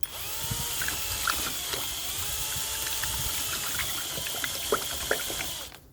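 A drill-driven mixer stirs plaster in a large bucket, producing a loud, continuous whirring churn with a watery slosh that holds steady for several seconds before it stops.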